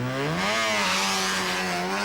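Holden Gemini drag car's engine revs hard and high at the line, pitch rising and wavering in a loud, continuous scream.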